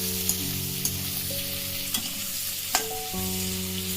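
Vegetables being stirred and fried in a pan for chilli chicken, with a steady sizzle, a handful of soft stirring knocks and a constant droning hum underneath.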